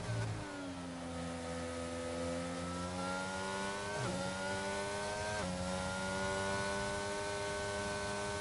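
Race cars in a sim racing game at Bahrain scream past with high engine whines that rise and shift pitch, several overlapping and sustained, with a couple of sharp gear-change dips partway through.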